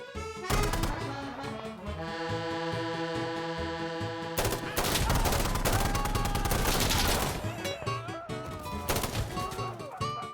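Gunfire in Insurgency Sandstorm, a series of sharp rifle shots scattered through loud game music, heaviest in a dense cluster midway, with some shots near and some farther off.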